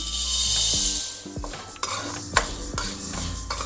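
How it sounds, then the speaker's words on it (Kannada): Lentils and whole spices for sambar powder are dry roasted in a pan, with a spatula scraping and stirring repeatedly against the metal and grains rattling softly, close and alone. "ಈಗ ಒಂದೊಂದಾಗಿ ಫಸ್ಟು ಕಾಳುಗಳನ್ನೆಲ್ಲ ಹುರ್ಕೊಳ್ಳೋಣ"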